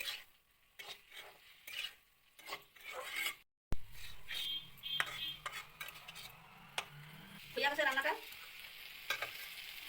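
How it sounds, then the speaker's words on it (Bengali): A pan of fried pointed gourd with spices is stirred gently, with scraping and rubbing of a utensil against the pan over a soft sizzle, in short irregular strokes. A brief silent gap breaks it near the start. "হালকাভাবে নাড়াচাড়া করে দেওয়া"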